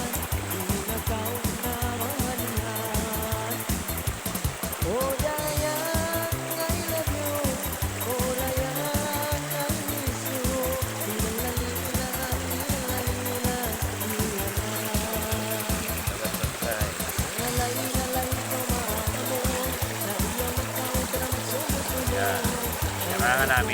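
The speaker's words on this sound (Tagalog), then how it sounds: "sa pinakagalingan ng Maragatat Falls" Maragatat Falls pours in a steady, loud rushing roar close by, a continuous wash of water noise, with voices talking throughout over it.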